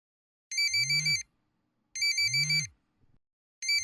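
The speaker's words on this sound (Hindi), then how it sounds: "इस वक्त किसका फोन है?" A phone rings in repeated electronic trilling bursts, each about a second long, separated by short silences, clear and close.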